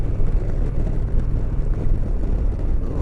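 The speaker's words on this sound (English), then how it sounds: "there's a lot more wind now on the helmet. I can hear my helmet chattering quite a bit more again" Strong, steady wind roars and buffets against a motorcycle helmet while riding an Indian Roadmaster Dark Horse, a dense low rumble filling the whole clip with no pauses.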